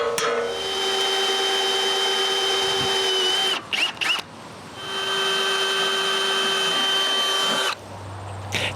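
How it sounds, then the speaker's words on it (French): A power drill bores new holes for fenders on a trailer under repair, with two long close whining runs, separated by a short pause with brief clatter, then a lower hum at the end. "je dois percer de nouveaux trous. Je les marque et je les perce"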